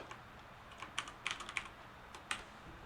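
Typing on a computer keyboard, a faint, irregular run of quiet key clicks close by with short pauses between bursts, and no talking.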